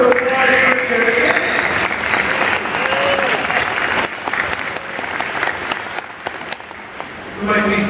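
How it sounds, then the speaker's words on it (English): Aquarium crowd applauding at a beluga whale show, loud sustained clapping and cheering that dips slightly midway and swells again at the end, with faint voices and an announcer mixed in. "How about a big round of applause for Jenisis?"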